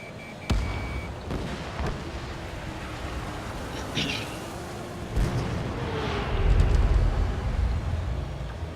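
Missile explosions in the combat flight video game Ace Combat 7: sharp blasts at intervals over a steady roar of jet noise, building into a louder rumbling swell near the end.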